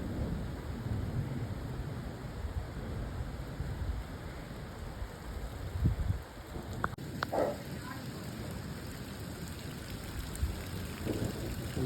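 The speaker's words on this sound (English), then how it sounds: "There's the rain. Here it comes." Steady rain falls with a soft, continuous hiss and patter, with a few louder bumps and faint low rumbles underneath.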